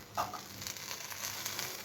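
Paneer tikka sandwiches laid into a buttered hot pan give off a soft, continuous sizzle, faint and even, with a small crackle as they settle.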